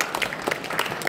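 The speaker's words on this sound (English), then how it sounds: "Give him a round of applause." Audience applause at a game developer event, a short burst of steady clapping from a crowd with faint voices mixed in.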